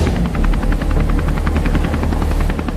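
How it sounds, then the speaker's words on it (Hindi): A helicopter's rotor beats loud and close in a steady rapid chop over a constant engine roar, holding an even throb throughout. "चल पायलट, हेलीकॉप्टर को उड़ा।"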